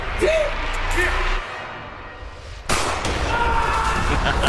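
A gunshot fires in a video game: a sharp, loud blast partway through, followed by lingering rumble, with game sounds and a voice before it.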